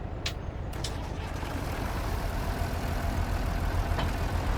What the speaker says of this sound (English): let's grab this tractor